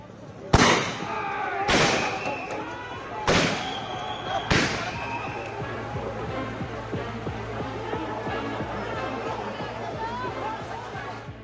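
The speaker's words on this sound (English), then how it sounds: "Fired tear gas shells." Police fire tear gas shells at BJP protesters outside Kolkata police headquarters. Four sharp, loud bangs come at roughly even intervals, followed by a noisy outdoor crowd wash.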